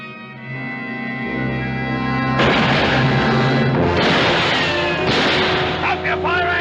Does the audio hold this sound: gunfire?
yes